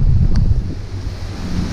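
Wind buffets the microphone of a truck driver out in New Zealand, a loud, steady low rumble with gusty fluctuations and no other clear sound.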